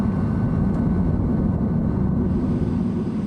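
Rockwell B-1 Lancer bomber in flight while taking on fuel from a tanker aircraft, a loud, steady low roar of jet engines and airflow that holds without a break, with no speech.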